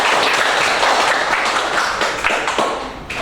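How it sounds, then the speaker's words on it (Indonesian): A classroom group in a teacher-training session breaks into a burst of applause, dense, many-handed clapping that holds strongly for about three seconds before tapering off. "Oke, tepuk tangan untuk kita semua."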